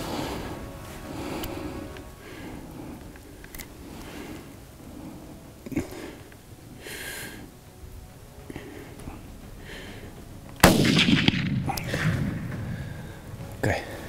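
A single 30-06 rifle shot fired at a buffalo on a South African hunt cracks out abruptly and loudly near the end, after quiet murmured talk, rustling and breathing in the field.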